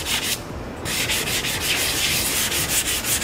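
Continuous abrasive rubbing of sandpaper on a repaired cracked car bumper, a steady close hiss with a rhythmic back-and-forth texture and a brief pause in the stroke near the start, no voices.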